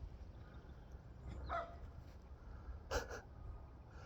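Small dogs barking from behind a gate, two short bursts of barks at a distance over steady background hum, with no one talking.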